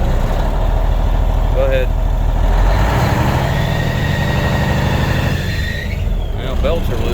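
A 1992 International 9200i truck with a Cummins N14 diesel, left sitting since 2008, idles loudly up close, then its engine rises in pitch and roughness as throttle is applied before settling back, with brief speech nearby.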